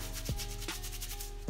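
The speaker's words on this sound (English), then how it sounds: "And then you're just pretty much gonna start scrubbing." Stiff brush scrubbing a stain out of car floor carpet, a close, continuous rough rasping with quick back-and-forth strokes.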